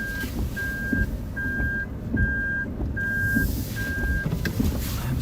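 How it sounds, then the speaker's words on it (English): A reversing vehicle's warning beeper sounds six evenly spaced tones over a windy outdoor background as a typhoon hits Okinawa, Japan, with a low road rumble beneath. "Stop that annoying beeping sound."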